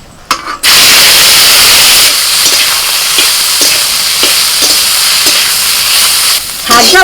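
Potato and bitter gourd fry in mustard oil in a kadai with dried red chillies, giving a loud, dense sizzle that starts abruptly after a short clatter and stays steady with faint stirring taps.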